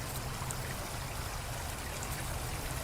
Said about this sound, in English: A little waterfall that starts way up there